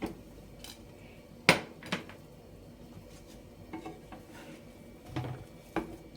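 A spaghetti omelette is flipped with a plate over a pan, giving a sharp clatter of dishware and a few lighter clinks and taps close by, with a soft kitchen background and no talking.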